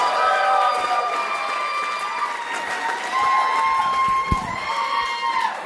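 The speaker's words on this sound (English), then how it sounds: "Round of applause for Melissa May." A comedy club crowd at Gotham Comedy Club in New York claps and cheers as a comedian is welcomed to the stage, steady applause mixed with whoops and shouts throughout.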